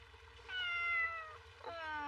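A small kitten in an anime episode gives two clear, high meows close by, one long and one shorter, with nothing else heard around them.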